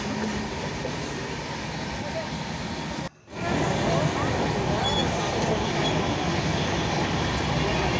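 A steady rumble of a passenger train fills the cabin of a moving carriage, heard from inside. It is loud, continuous and broadband, and it drops out briefly for a moment before resuming at full level.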